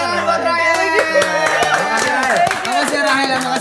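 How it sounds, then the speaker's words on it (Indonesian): A podcast studio audience gives Rahel a round of clapping, scattered and close, mixed with voices talking and chattering over it. "Tepuk tangan buat Rahel."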